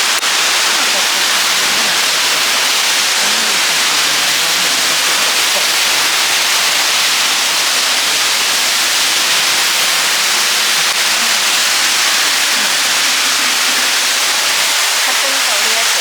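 Roaring broadband rush of a waterfall in southern Iceland, heard up close from the path that passes behind the falling water, a steady, loud, unbroken wash of spray from start to finish.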